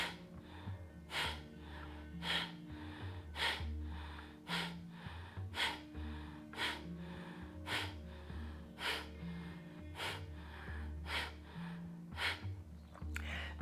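Kundalini breath work: forceful exhales pump out in a steady rhythm, roughly one every second, each a sharp close puff of air through the nose over a faint low background hum.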